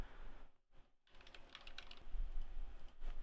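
Rapid typing on a computer keyboard while taking notes forms a run of quick, close clicky keystrokes over a steady background hum, with a couple of brief pauses and no speech.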